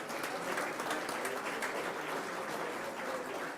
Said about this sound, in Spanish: Despidamos con un aplauso, por favor, a los integrantes del Presidium